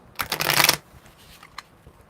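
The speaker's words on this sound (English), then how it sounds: "when I'm shuffling the cards" A quick burst of cards being riffled and shuffled, close and crisp, lasting under a second, followed by a few faint soft taps.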